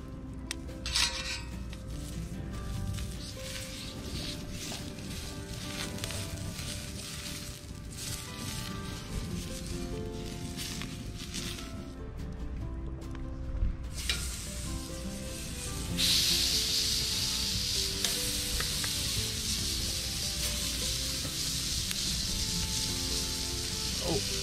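Beef fat greasing a hot grill before chicken wings are cooked, a close sizzling and rubbing hiss that grows louder and brighter partway through, steady and unbroken, no voices.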